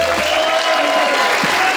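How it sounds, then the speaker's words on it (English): Comedy club audience claps and cheers as a comedian walks onstage for a half-hour special, dense steady applause filling the room at close range with no gaps. "Put your hands together and welcome the very funny Louis Johnson"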